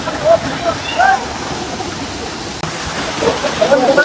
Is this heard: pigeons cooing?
no